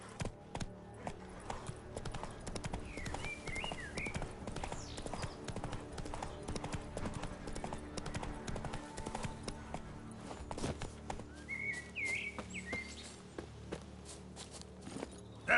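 Roach, the horse in The Witcher 3, trots with a steady, continuous clip-clop of hooves. Faint bird chirps are heard over the outdoor game ambience.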